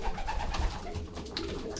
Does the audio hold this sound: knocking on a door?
no